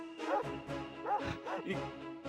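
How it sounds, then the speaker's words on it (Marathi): A dog whimpering and crying in front of a house, close and fairly clear, with short whiny yelps rising and falling in quick succession. "हा कुत्र्याचा आवाज"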